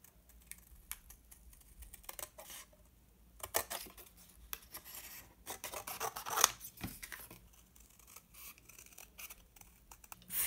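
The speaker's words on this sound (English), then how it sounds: "And now I'm going to cut this out" Scissors snip through a paper printable for a ribbon and lace holder, cutting along the printed lines. Quiet, irregular crisp snips and paper rustles come close up with short pauses between them, and no one speaks.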